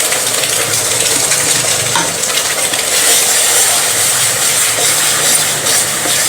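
Masala paste goes into a hot tempering in a pan and sizzles with a loud, continuous, hissing crackle that stays bright and steady throughout.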